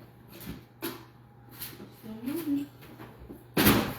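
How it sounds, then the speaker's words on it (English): A drawer is shut with one loud, sharp bang near the end, after quieter knocks and rustling, while a person speaks briefly in the background. "Shut the drawer, Avery."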